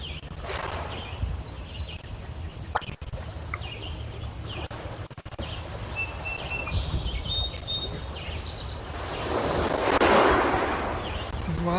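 Water waves lap along the shore of Mercer County Park Lake, a soft continuous wash that swells louder near the end, with wind buffeting and scattered birdsong in the background.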